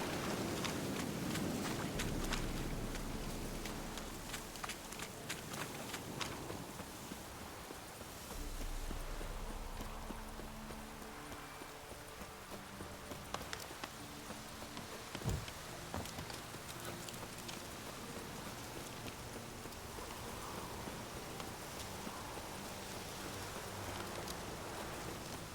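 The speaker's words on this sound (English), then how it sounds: "Sure does rain a lot here" Soft, steady rainfall in a medieval fantasy game world, a faint patter with occasional hoof-like clops and footsteps, low and distant throughout with no talking.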